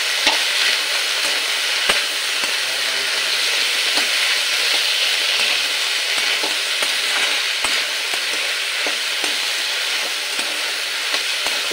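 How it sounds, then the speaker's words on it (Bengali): Figs, potato and ginger fry in a pan with a steady, close sizzle throughout, punctuated by repeated scrapes and knocks as the mixture is stirred. "তাহলে ডুমুর আর আলুর সাথে আদাটাও ভাজা ভাজা হয়ে যাবে"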